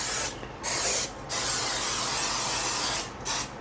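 Cooking spray hissing onto a 9 by 13 baking dish at a kitchen sink, three close, loud, steady bursts of aerosol spray separated by brief pauses, with no talking.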